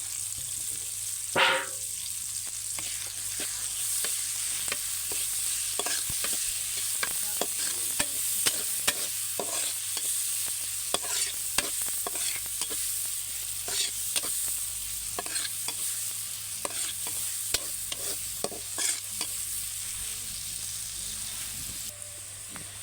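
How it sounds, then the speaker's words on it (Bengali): About four chopped onions frying in oil until browned, a steady soft sizzle with frequent scraping, clicking stirs of a spatula against the pan, fairly close and uninterrupted. "আমার পেঁয়াজটা ভাজা শেষ পেঁয়াজ করে লাল করে ভেজে নিলাম"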